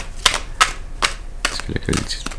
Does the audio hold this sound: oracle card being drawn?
yes